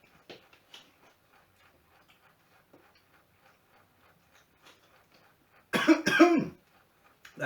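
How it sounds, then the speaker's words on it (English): Two loud, close coughs in quick succession, brought on by spicy chicken vindaloo curry, follow a stretch of near silence with faint ticking sounds. "That cough's a good sign."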